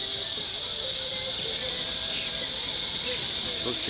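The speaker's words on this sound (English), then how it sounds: "Those cicadas everywhere in this city, and right here in particular, so loud." Cicadas in a city park make a loud, constant shrill drone that covers everything, and faint background sounds show through underneath.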